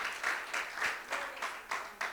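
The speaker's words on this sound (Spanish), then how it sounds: "denle un fuerte aplauso al Señor" A church congregation applauds during a service, a fairly quiet, continuous patter of many hands with small surges, heard from some distance without speech.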